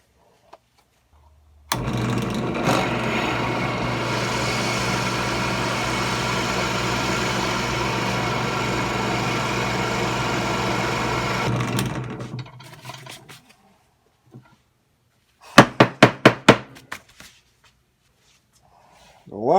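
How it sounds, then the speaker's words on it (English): A drill boring into a pool ball with a series of drill bits, one sustained steady whine of about ten seconds winding down, followed by a few short rapid bursts. "Yeah, I'm using a series of 3 drill bits."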